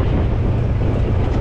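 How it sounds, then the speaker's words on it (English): Strong wind blows across a beach during a fishing outing, buffeting the microphone in a steady, loud roar with no voices. "It's a bit windy."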